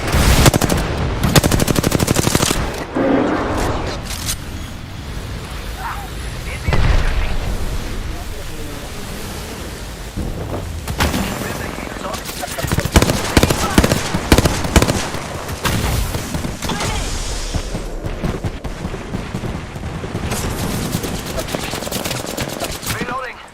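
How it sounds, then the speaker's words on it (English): Gunfire in Apex Legends, with sustained automatic bursts and scattered shots that stay loud and dense throughout, along with explosive booms and constant battle noise. "I'm spotted. Taking fire."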